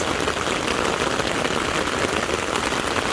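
Heavy rain pours down in a dense, unbroken hiss, drumming loudly and steadily on a surface nearby.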